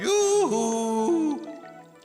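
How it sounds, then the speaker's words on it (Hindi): Inside an undersea tunnel cave, a single drawn-out cheerful shout from a cartoon voice rings out and then trails off in a fading echo. "यहाँ एको भी है।"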